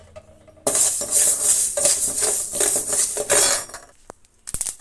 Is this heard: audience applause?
no